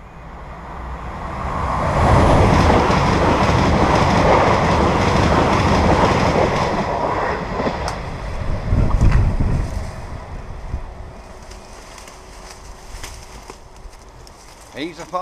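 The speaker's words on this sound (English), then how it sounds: "This is the King's Cross to King's Lynn train." A King's Cross to King's Lynn passenger train passes close by in the UK: a loud, steady roar with rail rumble that swells, then fades into faint clatter and a thin whine.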